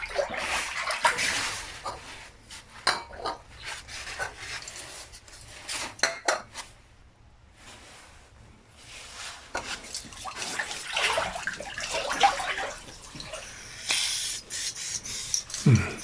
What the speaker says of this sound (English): The motor, however, I'm going to clean today with some brake cleaner.